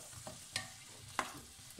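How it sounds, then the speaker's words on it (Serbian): Butter melts in a pan with a soft, steady sizzle, broken by a couple of sharp clicks from stirring, quiet and close with no voices over it. "Vidite kako ovaj puter se lepo topi."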